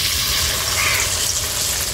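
Cornflour-coated chicken egg omelette pieces sizzling in hot oil, a steady dense crackle and hiss that continues without a break, close and fairly loud.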